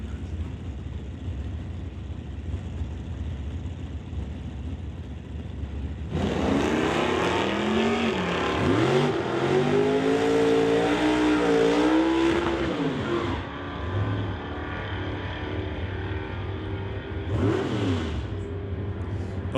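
A 1972 Chevelle at a drag strip bursts into a loud, roaring run from about six seconds in, its engine note rising and falling through shifts before fading, with another brief surge near the end.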